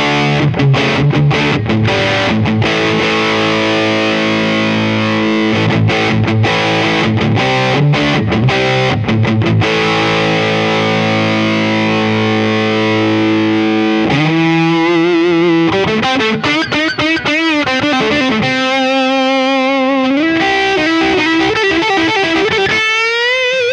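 Heavily overdriven electric guitar through a ToadWorks John Bull British Overdrive pedal, mids up, plays chords and riffs, then sustained bent notes with vibrato, loud and close with no talking.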